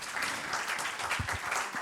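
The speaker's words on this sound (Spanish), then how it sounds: "un fuerte aplaudimiento para él" An audience claps for a speaker at a chemistry lecture, a brief burst of dense, steady applause from many hands filling the room, loud and even throughout.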